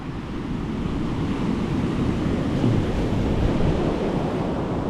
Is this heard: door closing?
no